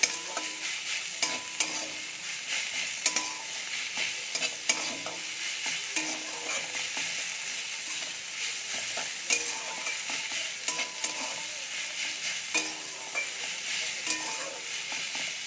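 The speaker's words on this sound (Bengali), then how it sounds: "মূলো শাক ভাজা হয়ে গেছে" Radish greens fry in a pan and are stirred, giving a steady, close hiss and sizzle with frequent scraping and clattering stirs and no talking.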